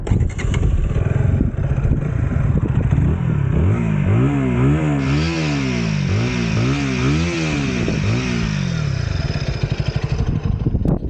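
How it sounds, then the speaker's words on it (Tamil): A KTM Duke 160 motorcycle engine runs loud and close, its exhaust rising and falling through several quick revs before settling back to a rumbling idle. "இந்த பைக்கோட எக்ஸாஸ்ட் சவுண்ட் எப்படி இருக்குன்னு பார்த்துடலாம்"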